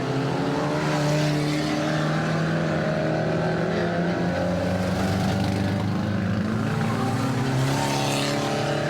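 Loud, continuous roar of several Ministox stock car engines close by, revving and droning together as they race around the track at a 2002 club meeting.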